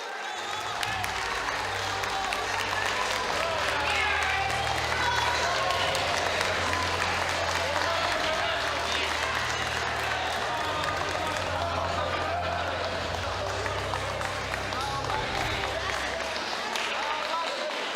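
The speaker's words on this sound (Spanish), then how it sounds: "Entonces las palmas por la defensa del orden constitucional" Sustained applause fills Peru's Congress chamber, dense and continuous clapping from many legislators at a session on a presidential vacancy vote, loud and close throughout with crowd murmur beneath.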